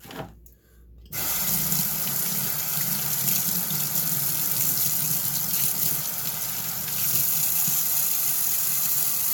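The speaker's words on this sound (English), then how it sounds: "let's take this thing over here underneath the sink, give it a good rinse" A die-cast 1969 Dodge Daytona model car stripped of thick paint being rinsed under a running sink tap, a steady loud rush of water after a brief quiet start, continuous and close, no talk.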